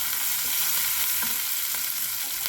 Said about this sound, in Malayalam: ഒരു നുള്ളു കായം, ഒന്ന് വഴറ്റി കൊടുക്കാം.